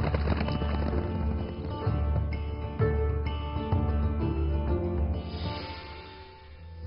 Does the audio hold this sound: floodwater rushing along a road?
no